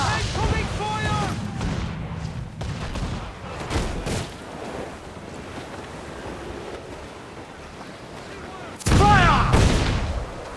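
Naval cannon fire from Assassin's Creed IV Black Flag, heavy booms over sea and wind ambience with crew shouting, ending in a louder blast near the close.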